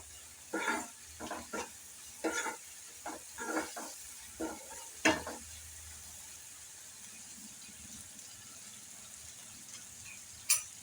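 Small prawns frying and stirred in a pan over high gas after water was added, with a series of sharp scraping stirs and bursts of sizzle, then a quieter low bubbling simmer.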